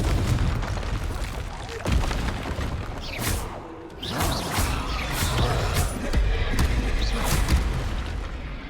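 Fiery spell explosions from the Confringo curse in the video game Hogwarts Legacy, a dense run of loud booms and crackling bursts layered over constant game combat noise, with hissing magical flares.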